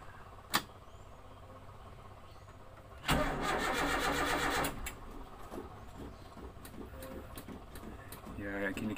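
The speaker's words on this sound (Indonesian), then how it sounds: "Tak coba nyalain mesinnya" An old used car's engine, slow to start on cold mornings, cranks and catches in a loud burst, then settles into a quieter, smooth idle. A sharp click comes earlier, against a quiet background.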